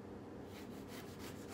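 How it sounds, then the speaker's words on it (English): A knife slices a lemon into very thin pieces, making quiet, close, rhythmic cutting strokes that repeat steadily through the second half. "I cut slice like this, very thin"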